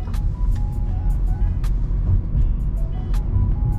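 A Honda Civic Touring cruises along with a steady low engine and road rumble inside the cabin, broken by faint clicks and a few brief higher tones.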